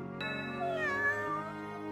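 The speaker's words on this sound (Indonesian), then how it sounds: "ketika seekor kucing muncul secara tiba-tiba" A single drawn-out cat meow, close and clear, rising then bending downward over about a second and a half against a quiet background.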